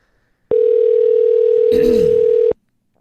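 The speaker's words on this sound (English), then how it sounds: "I'm calling CVS right now." Steady telephone dial tone heard while calling a CVS pharmacy line, loud and continuous for about two seconds, with a brief rustle of handling noise partway through.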